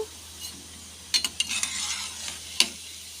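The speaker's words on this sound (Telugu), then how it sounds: "ఇలా ఇలా దోర కలర్ వస్తే చాలండి దోరగా ఫ్రై అయితే చాలు" Gulab jamun frying in hot oil, a soft continuous sizzle with a few sharp clinks of a spoon against the pan.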